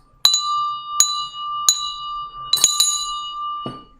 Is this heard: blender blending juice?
no